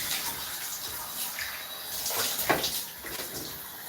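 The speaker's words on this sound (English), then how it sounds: "And rinse your hair out like this. Just like I'm doing." Cold water runs from a tap while conditioner is rinsed out of type 4 hair during a wash day. It makes a steady hiss and splash with brief louder spatters as the water hits the hair, and no talking.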